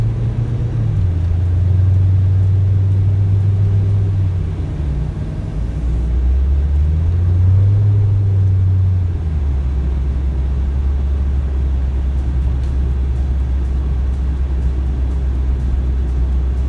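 A car engine rumbles loudly and steadily for the whole stretch, its deep tone rising and falling twice as it revs, with no talk over it.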